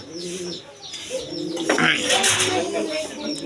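Pigeons coo in a loft of high-flying birds, with soft repeated calls and chirps close by, partly under a voice talking over them.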